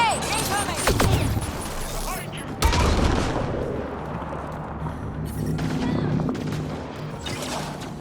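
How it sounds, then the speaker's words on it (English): In the video game Mass Effect: Andromeda, a loud grenade explosion booms over rapid gunfire, with a second heavy blast and continued shooting while voices talk over the combat. "Grenade! Incoming!"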